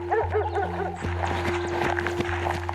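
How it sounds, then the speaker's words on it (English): A yellow Labrador barks several times in rough succession amid layered outdoor sounds, the calls mixed with a steady low hum and other noise rather than standing alone. "It's the Weaver family dog, a yellow lab named Striker, and the barks are getting closer"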